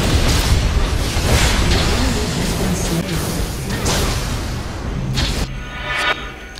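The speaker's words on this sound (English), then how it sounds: "Your turret has been destroyed." A turret is destroyed in League of Legends with a loud, deep explosion, followed by rumbling bursts and whooshing debris that fade over several seconds before a final short thump.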